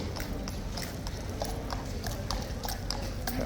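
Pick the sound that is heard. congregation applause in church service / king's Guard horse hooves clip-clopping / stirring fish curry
king's Guard horse hooves clip-clopping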